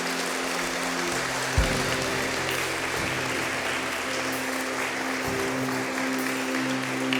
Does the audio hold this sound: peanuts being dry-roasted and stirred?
no